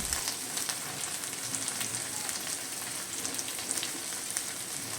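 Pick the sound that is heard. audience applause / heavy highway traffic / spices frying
spices frying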